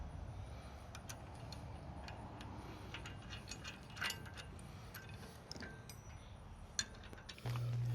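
Metal clicks of a ratchet tightening bolts while assembling a new stump grinder: a series of sharp, irregular ticks and clinks, close and fairly faint, over a steady low background hum.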